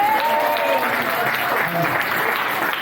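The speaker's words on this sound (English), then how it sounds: "Round of applause for" Wedding guests applauding during evening reception speeches at The View in Tynemouth, a sustained, even roar of many hands clapping, loud and steady from start to finish.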